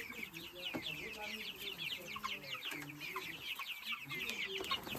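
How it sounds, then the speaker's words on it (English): Chickens clucking outdoors in a village, with many overlapping short clucks and chirps throughout, near and moderately loud, while people talk in the background. "Wow. Look at the chicken."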